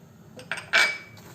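Onion pieces with salt being mixed in a bowl, a few quick clinks and scrapes of a utensil against the bowl, the last one the loudest, close up and without talk.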